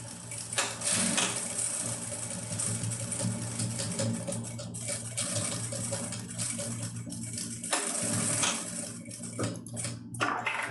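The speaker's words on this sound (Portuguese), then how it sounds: "eu vou passar aqui uma costurinha de segurança" A sewing machine runs steadily and close by, stitching a safety seam along the lining of a simple zippered fabric pouch. Its rapid needle chatter stays continuous with brief slowdowns near the end and no voices.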